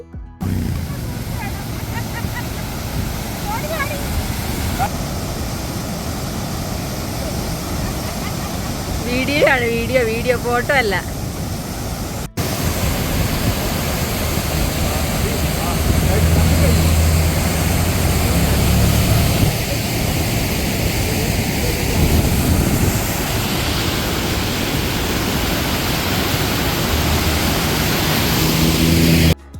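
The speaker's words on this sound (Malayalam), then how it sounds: "അതൊരു ചെറിയ വെള്ളച്ചാട്ടമായിരുന്നു കേട്ടോ. മോളിൽ നിന്ന് ഐസ് ഉരുകി വരുന്ന ഒരു വെള്ളച്ചാട്ടമായിരുന്നു." Small waterfall of glacial meltwater high on Furka Pass in Switzerland, a steady broadband rush that fills the whole stretch, with people talking over it.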